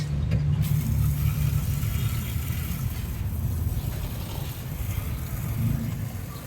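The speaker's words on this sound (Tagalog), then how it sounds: "Ito ang kanyang engine. Naku, makinis pa mga boss." A Suzuki Hustler Spacia engine runs with a steady low rumble that holds nearly constant and close throughout.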